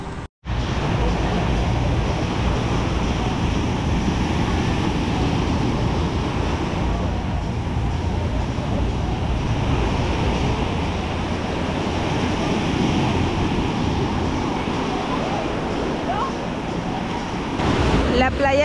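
Sea waves washing onto a Cancun beach near a beach club, a loud, steady roar of surf with wind across the microphone, continuous and close throughout.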